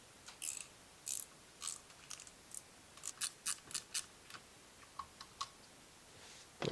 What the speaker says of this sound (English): now we're going to take an 8mm and loosen this